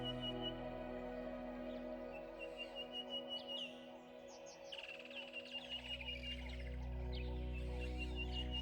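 Birds calling in Kenyan wetlands, a mix of sharp chirps and whistled tweets in quick bursts over a layered bed of steady tonal background sound, moderately loud.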